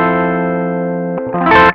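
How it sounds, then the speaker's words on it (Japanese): A Gibson electric guitar on its rear pickup drives a Klon KTR overdrive pedal with gain at about halfway, giving a loud sustained chord with warm mild crunch, then a second strummed chord that rings brighter before cutting off. "まあ大体半分ぐらいで鳴らしたいと思います。はい、ギブソンのリアピックアップです。"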